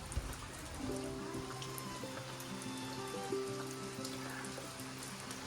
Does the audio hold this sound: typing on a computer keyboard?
no